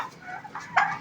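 Farmyard chickens cluck nearby in brief, fairly loud bursts, the last one the strongest.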